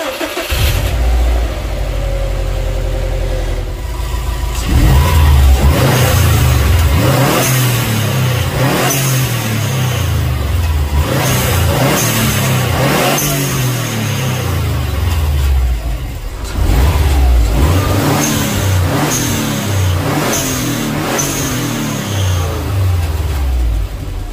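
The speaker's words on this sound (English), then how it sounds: "All right, let's go start the engine." A Subaru WRX/STI with a DIY blow-off valve starts up, then revs repeatedly in loud surging bursts between brief idle stretches, close and with no voices.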